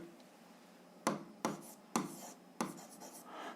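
A pen writes on paper in short separate strokes, four distinct scratchy bursts close to the mic during an algebra exercise, against a quiet background with no speech.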